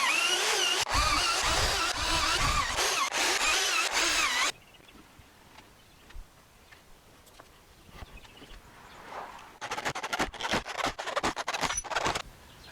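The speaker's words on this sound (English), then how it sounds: "I'm only going to drill 2 holes per side." A power drill bores holes into wood for a beginner furniture build, a loud sustained whir at the start that drops away, then resumes in short bursts near the end.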